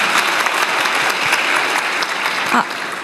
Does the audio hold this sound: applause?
yes